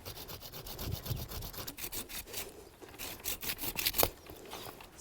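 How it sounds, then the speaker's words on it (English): A hand pruning saw cuts through a fruit tree branch during winter pruning, giving quiet, rhythmic rasping strokes in an irregular back-and-forth pattern, heard close with no talk. "My pruning saw."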